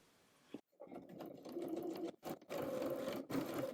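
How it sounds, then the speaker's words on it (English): A sewing machine stitches the upper front of a garment to the yoke front, running in short, close bursts of rapid mechanical whirring separated by brief pauses. "Then with right sides together, sew the upper front to the yoke front."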